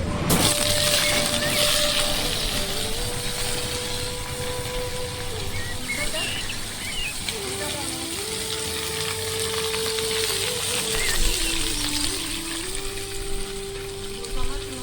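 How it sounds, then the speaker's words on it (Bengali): Jackfruit and potatoes fry together in a pan of oil seasoned with panch phoron, giving a soft, continuous sizzle with faint bubbling, a low steady tone and occasional light scrapes, all fairly quiet. "এবার আমরা কাঁঠালগুলোকে, আলুগুলোকে একসঙ্গে ভেজে দেবো।"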